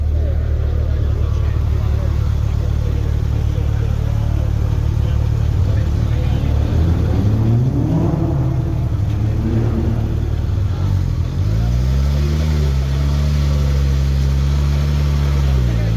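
A Porsche GT2 engine idles nearby on a street in Milan, Italy, with a deep, steady drone; its pitch dips and wavers midway, then settles into a lower, throbbing rumble.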